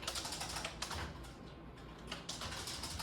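Fast typing of a card number on a computer keyboard during an accounting software lesson, a steady run of close clicky keystrokes with brief pauses, no talking.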